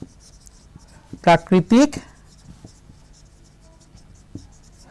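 Chalk or a marker scrapes across a board during a classroom lesson on soil, three short strokes heard in a quick row while a teacher speaks.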